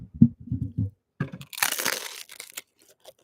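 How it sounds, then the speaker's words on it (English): Someone bites into toast, giving a burst of dry crunching and crackling up close, followed by a few smaller crunches while chewing, preceded by soft low mouth sounds. "Not that great of a crunch."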